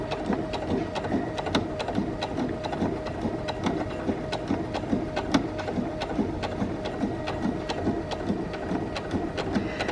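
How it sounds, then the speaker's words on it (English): A sewing machine stitches fabric slowly along a marked line, its needle thumping in a steady, even rhythm with a mechanical whir, close and alone. "make sure that I'm sewing nice and slowly on that line until I get to my other pin at the bottom"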